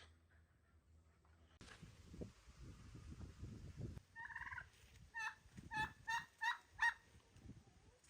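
Turkeys gobble several times in quick succession at moderate distance, over a rustling, scraping background.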